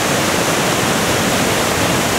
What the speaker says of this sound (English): And then the waterfall.